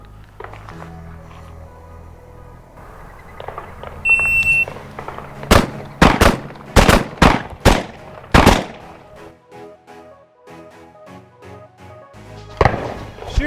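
Handgun fired in a timed drill from 10 yards, the ready position: a sharp electronic timer beep, then a rapid string of loud, close shots in quick succession, with another burst near the end.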